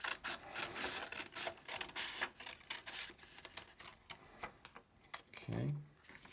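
Scissors cut a paper template along solid lines in a series of close, crisp snips and rustles, with a voice talking over them.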